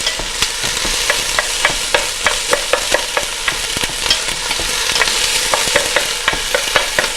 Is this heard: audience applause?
no